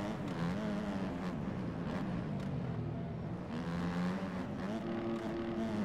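A motocross bike engine in the MX Bikes video game, a steady high-pitched drone held throughout, with the pitch dipping and climbing again as the rider shifts into fourth gear.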